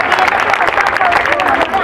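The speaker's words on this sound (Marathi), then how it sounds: "सर्वांनी लोंढेताई यांच्यासाठी जोरदार टाळ्या करायचा आहे" Audience at a community gathering clapping loudly together, brisk dense applause with crowd murmur that stays strong for the whole short stretch.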